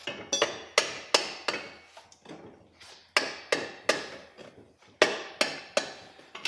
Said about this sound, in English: just use a hammer to tap it over